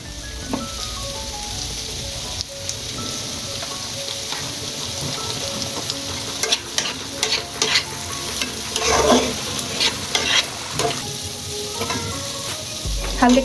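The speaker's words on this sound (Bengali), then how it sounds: "সবজিটা দিয়ে কিছুক্ষণ নেড়ে নেব।" Vegetables stirred in hot oil in a pan with turmeric and salt, a continuous sizzle of frying under scraping spatula strokes that grow busier toward the end, with light music in the background.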